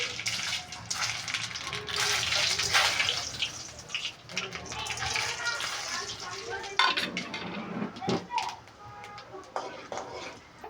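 Mustard seeds, urad dal and chana dal crackle and sputter in hot oil for a choya gravy, a dense, close hissing with scattered pops and occasional utensil clinks.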